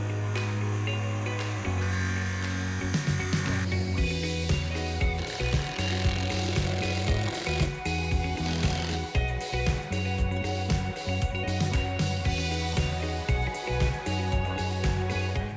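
A circular saw with its blade set just to the depth of the boards cuts Trex Enhance composite decking, a close, loud motor drone broken by repeated rough grinding cuts with pauses in between.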